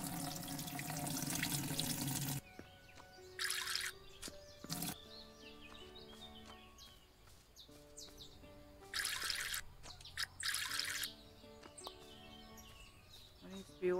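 In the video game EverDream Valley, running water pours in several short hissing bursts: one long gush at the start, then brief splashes, with birds chirping faintly in between.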